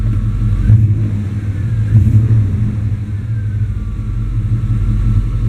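An 88-98 Chevy truck engine idles with a loud, steady low rumble, swelling briefly twice as the throttle is blipped before settling back to a smooth idle.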